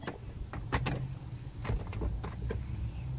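A WELOCK SOHO smart lock on a door, its motor driving the bolt shut with a series of sharp mechanical clicks and clunks over a low whirring, close and fairly loud, with no talking.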